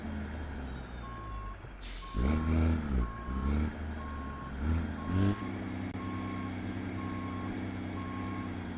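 A Peterbilt truck in American Truck Simulator reverses to couple a trailer, its backup alarm beeping in a steady evenly spaced series over a low engine idle, with several loud air-brake hisses in between.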